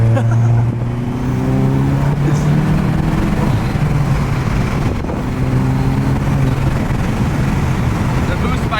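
A tuned Volkswagen Golf MK8 accelerating hard, its engine droning loud and steady from inside the car, climbing in pitch through the gears, with a voice speaking briefly over it.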